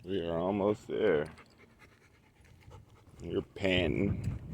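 A dog pants in quick, rhythmic breaths, close by, while a person talks at the start and again near the end.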